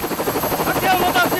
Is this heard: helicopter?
yes